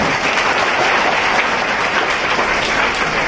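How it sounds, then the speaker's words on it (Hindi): Schoolchildren at a Jain school in Jashpur clap together as a group, a dense, steady round of applause that stays loud and even from start to finish. "इसके लिए ताली बजाएंगे"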